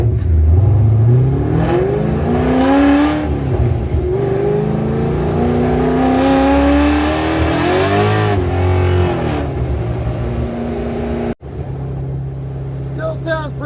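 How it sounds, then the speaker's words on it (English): A custom car's engine revving and rising through new tail pipes with exhaust leaks, a loud raspy roar that swells and falls in several pulls, heard up close before a sudden cut to a quieter idle. "exhaust leaks causing all that sound"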